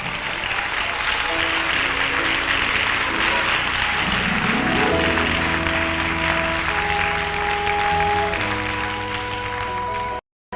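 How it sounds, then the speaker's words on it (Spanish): A church congregation applauds during a sermon, a long, steady wash of clapping mixed with sustained music and voices, holding evenly for about ten seconds before cutting off abruptly. "Dele palmas al Rey."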